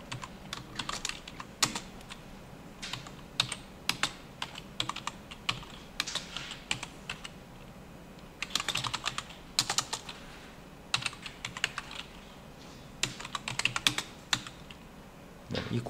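Code is typed on a computer keyboard in quick, irregular bursts of close, crisp key clicks separated by short pauses, with no voices.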